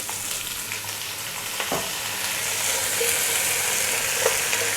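Steady sizzling of onion, carrot, potato and pumpkin frying in a pot over high heat, with occasional scraping knocks as they are stirred, fairly close and continuous.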